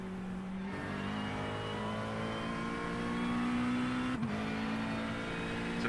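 McLaren GT3 EVO engine over-revving in iRacing: a sustained high-revving racing engine note, close and continuous, with pitch climbing steadily, a brief gearshift blip near the end, and no voices.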